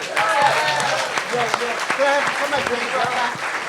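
Audience applause from a live podcast show crowd, a steady patter of clapping that runs through the whole stretch with voices talking and calling out over it.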